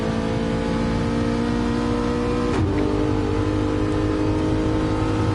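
Race car in a PS4 racing video game, engine droning loud and steady with layered harmonic whine that dips briefly as the driver gets on the power, continuous with no talk.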